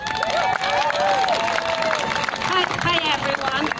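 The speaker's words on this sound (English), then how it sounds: "Big round of applause, guys." An outdoor crowd at a peaceful protest in a city park claps and cheers, with shouts and voices mixed into loud, continuous applause.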